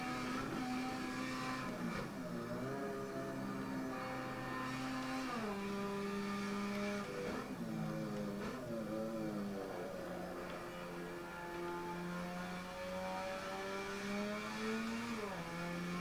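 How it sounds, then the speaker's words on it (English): A tuned Mazda RX7 with a rotary engine lapping the Nordschleife in Assetto Corsa, its engine holding a steady drone that rises and drops repeatedly through gear changes, continuous and unaccompanied by talk. "RX7 has a different type of engine. It has a rotary engine"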